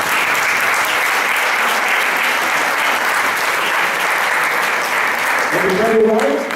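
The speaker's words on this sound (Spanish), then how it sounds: "pues un aplauso para ellos" A crowd claps steadily and loudly for several seconds, then a voice begins speaking as the applause continues.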